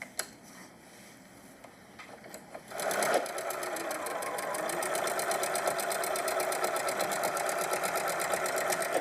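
A Janome sewing machine quilts parallel stitch lines on a patchwork tote, starting with a few soft clicks and handling noises before the motor kicks in and runs steadily and close at a fast, even stitching rhythm to the end.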